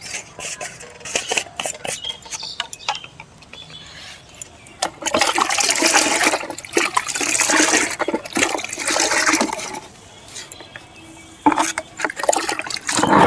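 Water mixed with fungicide is poured at the base and over the stems of a mussaenda plant, giving a close, loud splashing pour in bursts, with container clinks and handling sounds between.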